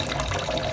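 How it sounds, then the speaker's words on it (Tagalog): Water runs steadily from a newly installed replacement sink faucet, a continuous close splashing rush with no break. "I-on na natin yung tubig."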